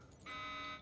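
Electronic alarm in the video game Syphon Filter: The Omega Strain, a sustained buzzing tone that starts abruptly after a short low rumble and holds steady at moderate volume.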